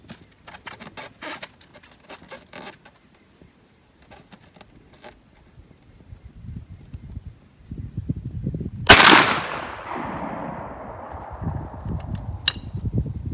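A 16 gauge shotgun fires a .600 caliber round ball at an outdoor range: one loud, sharp blast near the middle with a long decaying tail, among quieter handling noises and a later faint click.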